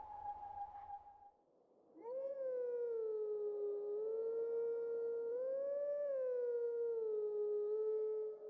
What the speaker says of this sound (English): It's another Howling Stone.